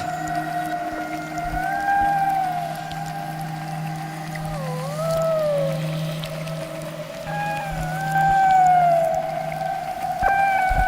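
Eurorack synth module emitting strange, wavering squealing tones that bend and slide in pitch over a steady low drone, fairly loud and continuous with no talk.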